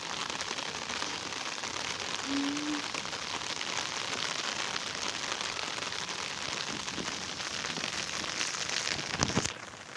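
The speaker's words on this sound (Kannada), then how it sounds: "ಮಳೆ ಬರ್ತಾಯಿತ್ತು ನೋಡ್ರಿ." Rain falls steadily in a soft, even patter on surfaces nearby, with a brief tonal squeak early on and a sharp knock near the end.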